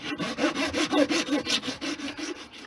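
A hand saw cuts through a plastic tube for scale model air duct sections, with about fifteen rhythmic rasping back-and-forth strokes, close and steady, with no talking.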